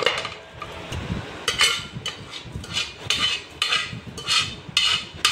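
Cooked field beans are stirred with a ladle in a metal pot for a spicy fish curry. The ladle scrapes and clinks against the pot in repeated close strokes, with no talking.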